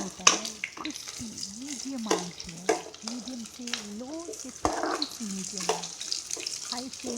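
Banana curry fries and is stirred in a pan, a steady sizzle with intermittent utensil scrapes running beneath a person talking throughout.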